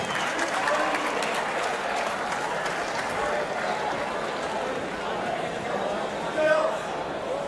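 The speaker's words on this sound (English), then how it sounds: "And give Nathan Reed a round of applause." Audience applause and cheering fill a combat-sports fight event arena, a dense, steady roar of clapping that holds loud for the whole stretch, with an announcer's voice running over it.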